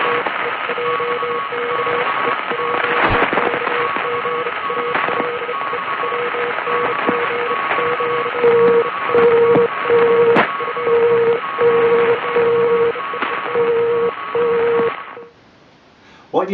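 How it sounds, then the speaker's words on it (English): Morse code safety signal TTT sent by Nightingale Radio on the Isle of Wight, heard as a steady tone keying on and off in dashes over radio static and hum, fairly loud, before the signal abruptly stops. "Nightingale Radio in the Isle of Wight sending TTT, a safety signal, then announcing a gale warning"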